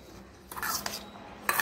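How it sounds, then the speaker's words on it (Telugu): Peanut chaat being mixed with chaat masala and spices in a bowl, heard as a few short clinks and scrapes of a spoon against the bowl in brief bursts, fairly close. "వీటన్నిటిని ఒకసారి బాగా మిక్స్ చేసుకోవాలి"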